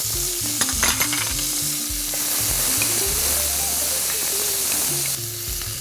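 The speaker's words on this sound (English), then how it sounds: "I'm gonna toss in my onions, carrots, and garlic. And I'm gonna saute that up for about 2 minutes." Onions, carrots and garlic sauté in a pan. A continuous loud sizzle carries close-up stirring and scraping, with no speech.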